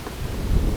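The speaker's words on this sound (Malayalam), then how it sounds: "കാറ്റ് ഭയങ്കരമായിട്ടുള്ള കാറ്റ് വീശുന്നുണ്ട്." Strong wind blowing outdoors at an open-air cooking spot, a loud low rumbling buffet against the microphone that swells toward the end, heard alone.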